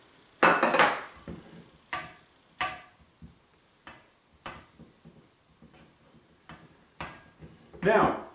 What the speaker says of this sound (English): And we'll just stir those together.